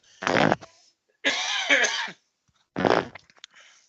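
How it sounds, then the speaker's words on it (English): Three separate coughs break the quiet in a woodturning workshop, each a short harsh burst from a close voice with brief silences between them. "Still got a bit of a cough."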